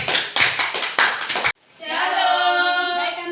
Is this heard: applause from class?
yes